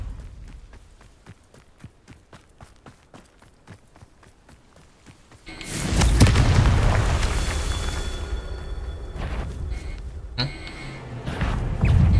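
A Bombarda or Confringo spell explosion in Hogwarts Legacy, a loud sudden blast after a run of rhythmic footsteps, followed by a long rumbling roar of debris and a second burst near the end.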